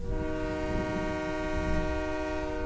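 A train whistle sounds as a sustained, steady multi-tone blast that holds throughout, fairly loud over a low rail rumble, with no speech.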